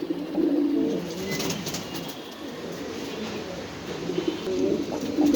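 Pigeons cooing at a pigeon farm in Mirpur, low soft repeated coos from several birds over a steady background hum, with no talking.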